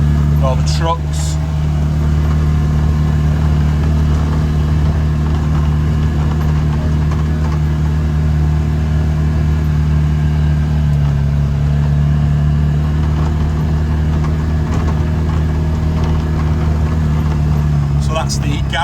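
A utility vehicle drives around a koi farm facility, its mid-pitched engine droning steadily and loudly close by for the whole stretch, with speech mixed in at times.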